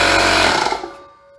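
A Porter Cable 6 gallon air compressor, tested after its loose power-switch wires were fixed, gives a loud steady motor drone that winds down and stops within about a second.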